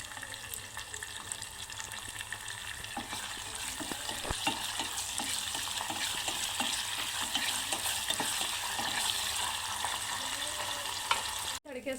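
Chillies hit hot oil alongside cumin, garlic and curry leaves in a dal tadka tempering, giving a steady close frying hiss with scattered crackles and pops that runs on for several seconds, ending in a brief clunk.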